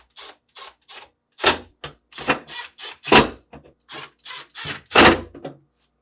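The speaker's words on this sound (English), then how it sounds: "Then, reinstall the screws." Screws being driven back into a GE refrigerator's fresh food compartment during an evaporator fan motor repair, heard as a close series of sharp clicks and thunks in uneven bursts with short pauses between them.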